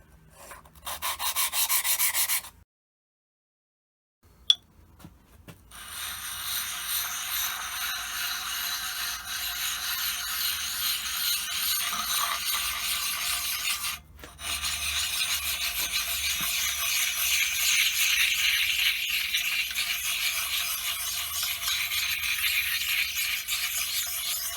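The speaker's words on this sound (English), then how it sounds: "I'm flipping it over because I'm just dressing the edges as such." Scraping and rubbing of a lubricated honing stone being flattened and its edges dressed, a steady abrasive hiss that runs nearly continuously, with a brief pause before it resumes and carries on at fairly even loudness.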